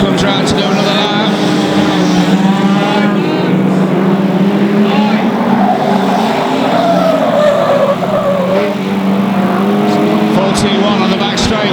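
Race car number 41 comes round for another lap at a Grimley season-opener race meeting, its engine droning steadily under continuous talk, with the car's note rising and falling as it passes.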